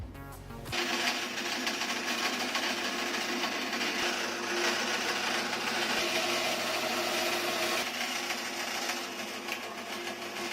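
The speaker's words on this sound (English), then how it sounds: "I'm just going to cut one of these out using the bandsaw" A bandsaw starts up and cuts a part for an Iron Man mask, giving a loud, steady whirring drone with a dense, even hiss throughout. The cut runs with no breaks and no talking.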